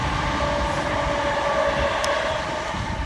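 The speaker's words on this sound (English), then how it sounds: "And there's the train." A train passes nearby with a loud, steady rumble and rail hum that fills the whole stretch, heard while walking alongside, with a faint high squeal partway through.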